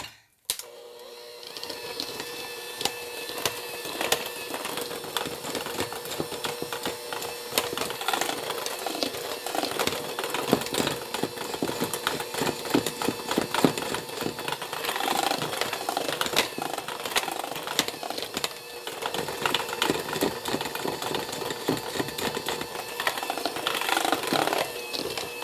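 Cake batter for a pineapple upside-down bundt cake is mixed with an electric mixer, giving a steady, faint whirring drone with scraping and clattering against the bowl throughout.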